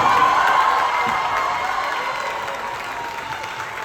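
A large outdoor crowd at a street-naming ceremony in Oakland, California claps and cheers in a steady roar, with scattered shouts and whoops, slowly fading over a few seconds.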